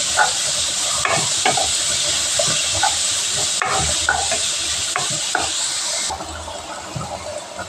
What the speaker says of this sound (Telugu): ఆనియన్స్ అనేది బాగా ఫ్రై అవ్వాలి.